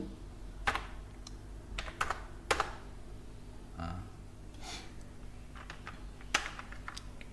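Typing on a computer keyboard during a typing lesson, with scattered key clicks and a few louder strikes spread across the stretch, close and fairly quiet, with no talking.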